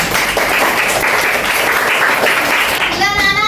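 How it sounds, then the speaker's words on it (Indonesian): A primary school class, class 4D, claps together in a classroom, a dense burst of applause that runs steadily and fades near the end as other sounds come in. "Oke, tepuk tangan buat kelas 4D."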